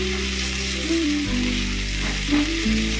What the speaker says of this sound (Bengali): মশলাটা একটু ভাজা ভাজা জাস্ট করে নেবো